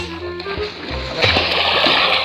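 People splash in the water while bathing in the fresh Palian River, a steady wash of nearby splashing and sloshing with an onset of heavier splashing midway.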